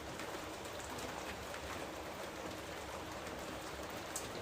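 Heavy rain pouring over a village in a cartoon, a steady, even wash of dense hiss and patter that stays fairly soft and unbroken from start to finish.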